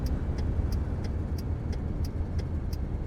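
A truck engine drones steadily in a trucking video game, a low rumble held at moderate volume with a faint regular ticking, like a turn signal, repeating about every third of a second.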